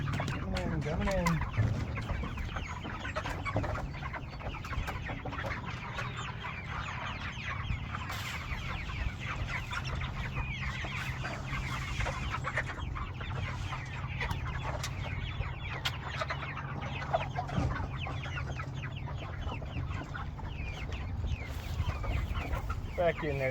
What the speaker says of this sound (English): Hey chickens, yeah, you're getting big, probably twice the size of Squat